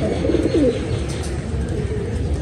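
Pigeons coo in a fancier's loft among many birds, a low throaty burble that carries steadily through the whole stretch, with several soft overlapping calls near and at middle distance.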